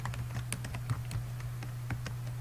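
Rapid clicking keystrokes on a computer keyboard, steady and close, running continuously with a low electrical hum underneath and no talk.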